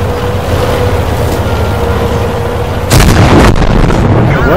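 A World of Tanks Hellcat tank destroyer's gun fires once, a loud sudden boom that breaks through a steady engine rumble and rings out with a rolling tail.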